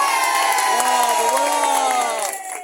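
A crowd cheers loudly, with shouting voices, whoops and some applause blended into a dense, sustained roar that stays steady before easing slightly at the end.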